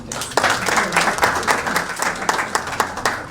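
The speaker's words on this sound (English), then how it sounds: "Let us give a warmer round of applause" Audience at a stakeholders' meeting clapping in a steady round of applause, with sharp individual claps standing out from the crowd.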